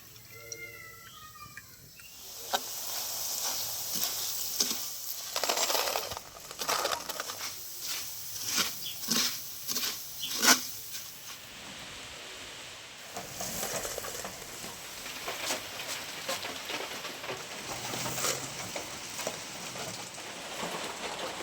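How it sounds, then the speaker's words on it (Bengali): Flattened rice (chira) frying in batches in hot oil, crackling and popping in bursts of close, moderately loud crisp sizzles that rise and fall with brief sharp pops, with no talking. "একই রকমভাবে অল্প অল্প করে আমি চিড়েগুলো সব ভেজে নেবো"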